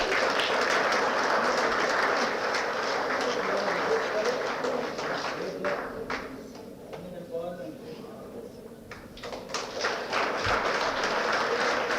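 Applause at a valedictory ceremony for a research conference: a fairly distant crowd claps steadily, the clapping thins and softens midway, then swells again, with faint voices underneath.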